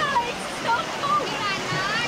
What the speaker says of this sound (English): there's a lot of water in the river